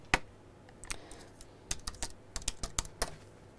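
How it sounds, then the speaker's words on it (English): Typing a search on a computer keyboard, a scattered run of crisp key clicks, close and moderately quiet, with no talk. "I just type that into the search bar and see what comes up there"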